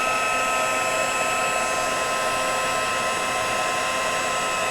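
A heat tool blows continuously at close range while melting embossing powder from underneath, a loud steady whirring hiss with a constant whine that never varies, alone without speech.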